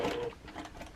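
Home sewing machine run by foot pedal, stitching a quarter-inch seam on small 1.5-inch quilt block squares; a brief, steady mechanical whir close by, strongest at the start and then continuing a little softer, with no talk.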